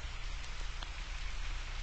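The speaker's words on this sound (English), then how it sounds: "It was raining hard," Heavy rain falls steadily on a surface, a dense, continuous hiss with scattered drop patters, close and fairly loud, with no voices.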